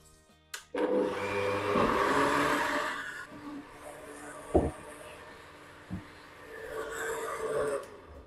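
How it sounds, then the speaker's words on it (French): A blender whirs loudly as it mixes watermelon, ice, raspberries, lemon juice and vanilla, running in a steady grinding burst for a couple of seconds before stopping, followed by a few sharp clunks and knocks of the jar and container. "je rajoute 30 ml et je vais mixer une dernière fois le tout"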